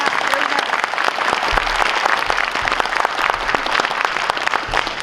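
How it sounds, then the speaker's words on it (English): Audience applause after a 6th grade orchestra piece, a dense steady clapping from a crowd lasting the whole stretch with no talk over it. "Cellos and basses deserve some extra applause there"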